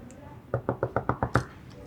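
A voice imitates knocking on a door, seven quick evenly spaced knock sounds in a short burst, close and fairly loud, with speech around them.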